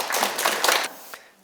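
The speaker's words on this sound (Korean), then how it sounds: "자, 큰 박수 부탁드립니다." A short burst of audience clapping at a Sunday lecture, lively for under a second and then quickly dying away to a few scattered claps.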